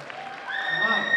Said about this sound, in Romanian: Aplauze încă o dată!